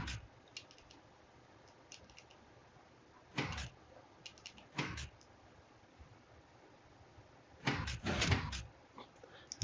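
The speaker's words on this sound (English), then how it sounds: "Now the door is fully closed, all from hex values." A Minecraft redstone door built on a hex-value system-on-a-chunk gives several short, faint mechanical clicks and clacks as it shifts closed, spaced apart over quiet background hiss.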